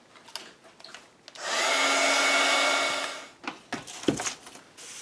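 Hair dryer blowing on an altered book heart craft piece, a close steady whoosh lasting about two seconds, framed by light handling clatter and taps.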